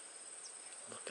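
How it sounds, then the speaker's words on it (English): Big hornets buzz outdoors near a pond, a faint, thin, steady drone lasting about a second with no voices. "Big hornets coming in."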